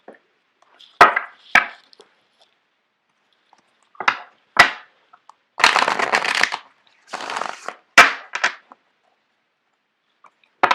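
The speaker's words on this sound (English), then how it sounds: "I'm going to shuffle out the cards for you guys" Tarot cards being shuffled and handled in several short bursts, crisp riffles and taps separated by quiet pauses, close to the listener.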